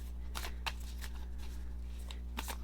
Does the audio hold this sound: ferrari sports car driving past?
no